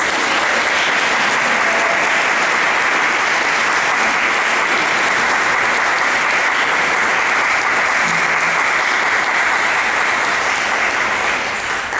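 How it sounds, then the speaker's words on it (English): A concert audience applauds the choirs at a choral festival, thick, steady clapping that fills the hall loudly and evenly for over ten seconds without letting up. "this is the time you can applaud their efforts"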